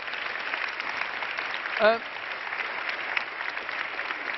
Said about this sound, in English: Please, you can make a big applause for the 4 of them.